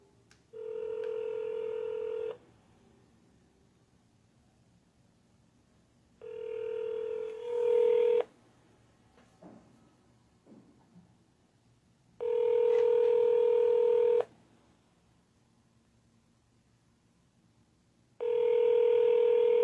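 Sustained telephone tones in four evenly spaced blocks about two seconds each, separated by quiet gaps with faint background noise, from a call to a U.S. Senate office in Washington, D.C.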